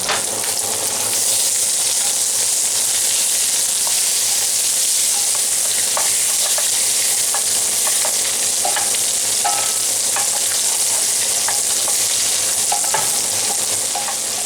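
Butter and sausage sizzle loudly and continuously in a Stargazer cast iron skillet, a close, steady hiss with occasional light clinks and scrapes of a utensil stirring the pan.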